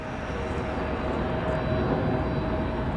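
A steady, broad roar of a jet airliner overhead near Raleigh-Durham airport, constant and moderately loud, with a faint whining tone and no voices.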